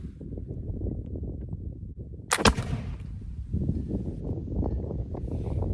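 A flintlock musket loaded with a .44 caliber round ball fires once outdoors, a sharp loud crack with a short rumbling tail, set against steady wind noise and rustling before and after.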